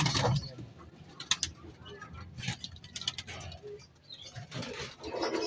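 Racing pigeons inside a loft, with soft cooing, wing flutters and scratchy shuffling and pattering, fairly faint and close, while someone talks intermittently.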